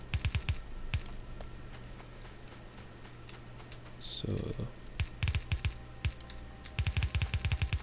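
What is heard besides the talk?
clicking sounds while playing Factorio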